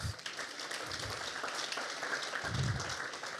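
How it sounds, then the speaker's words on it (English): A crowd applauds steadily throughout, a dense patter of many hands clapping at moderate volume. "you can clap"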